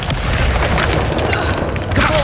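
A Confringo spell explodes in Hogwarts Legacy as a dense, continuous booming roar that stays loud and rumbling throughout, with no talk over it.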